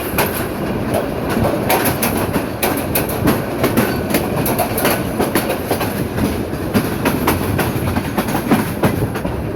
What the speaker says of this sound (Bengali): এটা হয় কক্সবাজার এক্সপ্রেস